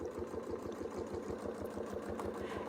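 A sewing machine stitches a clamshell quilting design with a ruler template, its motor whirring steadily with a rapid, even needle pulse, fairly quiet and close, without talk.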